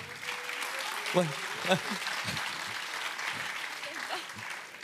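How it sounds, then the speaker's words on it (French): A small audience at a French web festival applauds a guest speaker, a short burst of clapping from a modest crowd heard under a man's speech. "Allez, on l'applaudit."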